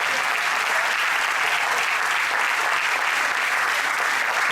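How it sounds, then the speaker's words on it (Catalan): Loud, dense audience applause fills a folk concert hall during the presentation of a band's first CD, a continuous wash of clapping with no pauses for nearly five seconds. "un aplaudiment ben fort per a Pep, que és el nostre tècnic."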